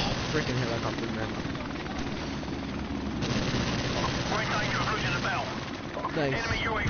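Helicopter in the video game Call of Duty: Modern Warfare Remastered, a steady rotor drone sitting under continuous game noise, with players talking over it throughout.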